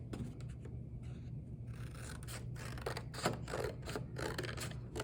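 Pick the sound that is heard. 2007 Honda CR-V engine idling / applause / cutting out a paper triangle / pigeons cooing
cutting out a paper triangle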